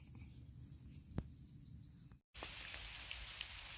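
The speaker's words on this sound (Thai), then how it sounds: "ฝนก็ตกมานะครับ" Rain falling in a forest, a faint steady patter with a brief drop-out partway through and a thin high insect whine running over it.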